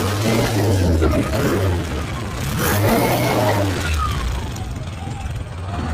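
A three-wheeler auto rickshaw engine runs close by in Vavuniya, Sri Lanka, with a rough mid-pitched chug that rises in a couple of rev surges under people talking.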